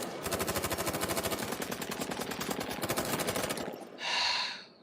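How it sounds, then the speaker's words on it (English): Sustained rapid machine-gun fire in an anime action scene, a dense steady stream of shots lasting several seconds before cutting off, followed by a short sharp hiss, loud and alone with no talking. "all those bullets, we didn't even see where you were shooting"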